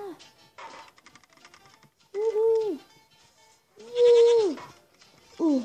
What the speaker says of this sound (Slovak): Retardovaná koza.